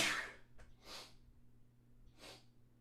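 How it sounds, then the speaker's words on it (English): A person with stuffy sinuses sneezes, producing a sharp, breathy nasal burst followed by two softer snort-like exhalations, fairly faint against a quiet indoor room with low hum and no talking. "I gotta sneeze."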